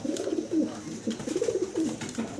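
A large female Andalusian-coloured fancy pigeon coos close by, repeated low warbling coos in rolling phrases, clear and fairly loud with no talking over them.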